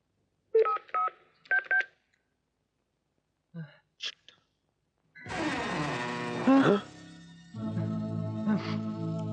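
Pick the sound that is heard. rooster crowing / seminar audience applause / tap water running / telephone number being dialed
telephone number being dialed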